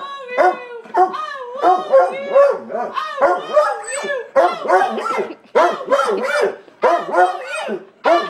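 A dog yips, whines and howls in a long, continuous, vocal burst of close, loud, pitched calls, as if trying to talk, rising and falling in melodic phrases without pause.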